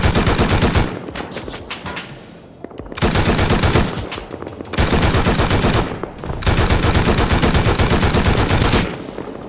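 Gunfire in a survival shooter game, with long loud bursts of rapid automatic fire separated by short gaps, close and dense, and no talking.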